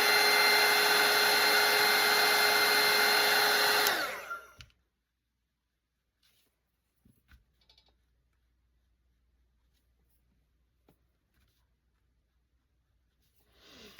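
A hair dryer blows loud and steady on a watercolour painting of a Grinch-style wreath for about four seconds, then shuts off and winds down. Near silence follows, broken by a few faint clicks and taps.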